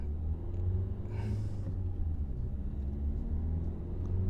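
Renault Kadjar 1.5 dCi (2016) with a flat-performance fault on a test drive, its low engine and road rumble droning steadily and loud from inside the cabin, with no one talking.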